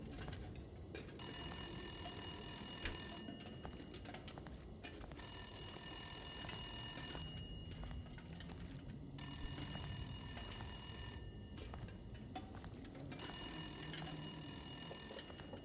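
An old bell telephone rings inside The Long Dark video game, repeating in four evenly spaced bursts of shrill, metallic ringing over a low ambient hum, fairly quiet and with no talking.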